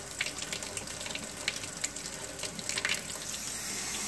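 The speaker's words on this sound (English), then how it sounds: "there's the water coming in" Water pours and gushes steadily into an aquaponics tank through a swirl filter, a continuous splashing rush with no voices.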